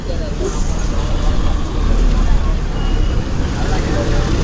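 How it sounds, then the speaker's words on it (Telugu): A Vijayawada non-stop bus waits in line at the busy Tenali bus stand, its engine droning steadily amid traffic rumble and crowd hubbub, with people talking nearby. "విజయవాడ నాన్ స్టాప్ బస్సు ఉంది లైన్లో."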